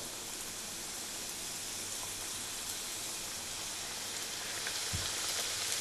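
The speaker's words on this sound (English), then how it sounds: "Should start sizzling up." Steady, fine crackling sizzle of samosas frying in hot oil, constant and fairly soft, with a brief thump near the end.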